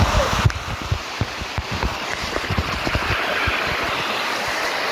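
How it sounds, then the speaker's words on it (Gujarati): Water pouring down at Girnar mountain in Junagadh makes a rushing, splashing roar with wind buffeting the microphone, close and continuous. "ગિરનાર પાણી જોવો કેટલું પડે છે ગિરનારમાં"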